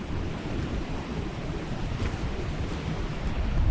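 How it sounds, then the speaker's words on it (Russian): Strong wind roars continuously against the microphone, a dense buffeting rush with no voices. "такой вот ветер поднялся, прям сильный"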